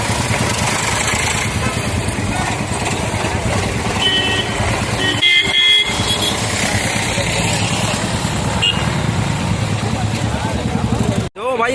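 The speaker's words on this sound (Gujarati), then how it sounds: "ટ્રેક્ટરની બહરાટી વગાડી રહી છે જો ટ્રેક્ટર પછી ટ્રેક્ટર" Several heavy Eicher tractor engines rumble and idle loudly nearby at a tractor rally in Junagadh, a continuous diesel drone with occasional horn toots and voices talking over it.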